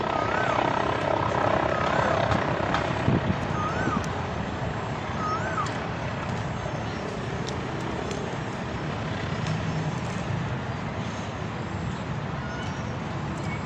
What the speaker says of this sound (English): that helicopter is going to land on the roof of that building